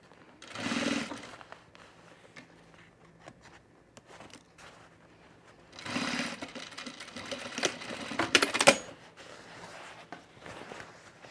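A sewing machine doing production sewing near a rug project runs in two fairly quiet bursts, one brief and one longer, with soft handling and thread-clipping noises in the quiet between.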